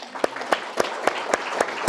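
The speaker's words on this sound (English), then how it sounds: "big clap for everyone" An audience at a social media business presentation claps in a steady, evenly spaced rhythm, with sharp, distinct claps heard close by.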